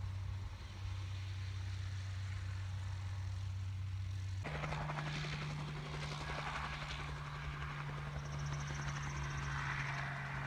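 A crop duster helicopter lifts off, its loud, steady engine and rotor drone jumping to a higher, stronger pitch partway through and holding there, close by with no voices.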